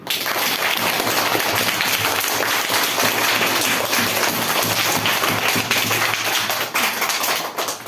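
Audience applause for stage performers at the close of an advertisement-presentation event, a dense steady wash of clapping that holds at an even loudness for the whole stretch with no voices over it.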